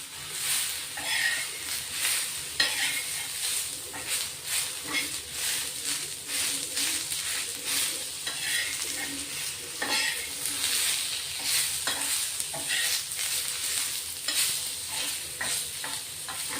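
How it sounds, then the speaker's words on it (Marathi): Tomato sautéed and stirred in a pan of chicken gravy masala, a steady close sizzle with repeated scraping strokes of a spoon running throughout, while a voice speaks quietly in the background. "एक मोठा टोमॅटो घेतलाय, तोही आपण याच्यात थोडा परतून घेणार आहे."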